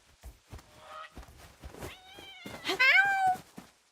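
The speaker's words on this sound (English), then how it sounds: "Hello, my little kitty." A cat gives several close meows, from short chirps to a longer, rising, insistent cry. Soft soft thumps and handling noises sit between the calls.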